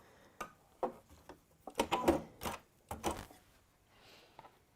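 A sewing machine stitching a lining onto the top layer of fabric in short, uneven bursts of mechanical whirring and clatter, close by with brief pauses between runs.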